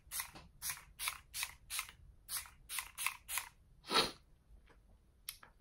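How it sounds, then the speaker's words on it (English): Short bursts of peach-scented makeup setting spray misted onto a face, about ten quick sharp hisses in an irregular rhythm, close to the microphone, followed by a few softer taps. "So what I usually do is I just spray a little bit on."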